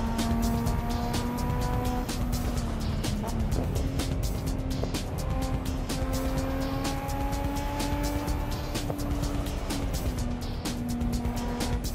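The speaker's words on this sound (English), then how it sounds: "we do need to jump in this R34 and take a real good drive down here" Nissan R34 driving through heavy traffic on Tokyo's Shutoko expressway in a racing video game, with a steady engine drone and rising and falling tones, tire squeal and passing cars, loud and continuous throughout.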